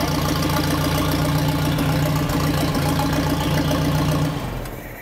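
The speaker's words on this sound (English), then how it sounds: "So with that, we're ready to start this tractor up and see the charge." A Ford NAA four-cylinder tractor engine runs indoors, giving a loud, steady idle with a low rumbling throb close by, then quickly dies down near the end.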